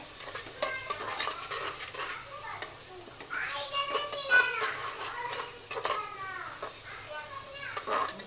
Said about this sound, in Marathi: त्याच्यात आता अद्रक लसूण पेस्ट टाकते. अद्रक लसूण पेस्ट पण चांगली फ्राय करून घेते.